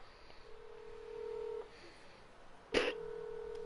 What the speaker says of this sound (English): He's ringing a number.